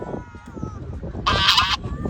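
An angry duck gives a single harsh honk, blaring briefly and loudly up close, standing out over a low, rumbling background murmur.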